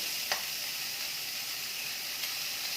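Finely chopped onion fries on medium heat in a pan, giving a steady soft sizzle with a brief stirring scrape near the start, close and without talk.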